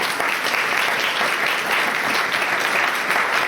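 A Sunday church congregation bursts into applause, a loud, even roar of many hands clapping without pause throughout.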